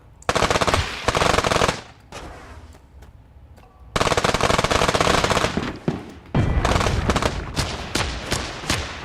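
Rapid automatic gunfire from the pixel-art shooter game Untitled Pixel Simulator rattles in long, loud continuous bursts, broken by brief pauses, with almost no talk over it.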